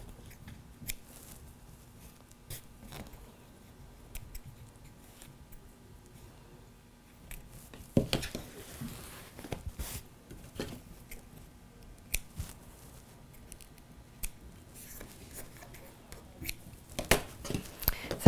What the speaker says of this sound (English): And we just trim all those loose ends